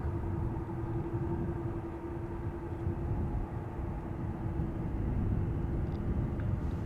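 Air India airliner at Amsterdam Schiphol Airport, heard as a steady, moderately distant jet engine rumble with a broad low roar and a constant tone, holding level throughout with no talk.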